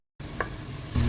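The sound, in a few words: food sizzling in a pot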